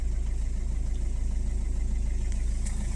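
A Peugeot 607 HDI diesel engine running just after starting, a steady low idling rumble with faint mechanical ticking throughout.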